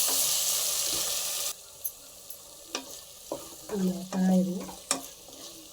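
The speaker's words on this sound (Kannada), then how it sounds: "ಸ್ವಲ್ಪ ಉರಿನ ಕಮ್ಮಿ ಮಾಡಿಕೊಂಡು ಟೊಮೊಟೊನ ಫ್ರೈ ಮಾಡ್ಕೊಳ್ಳಿ." Tomatoes fry on low heat in a pan, a soft sizzle at first, then scattered scrapes and clinks of a spoon stirring, with a brief spoken word.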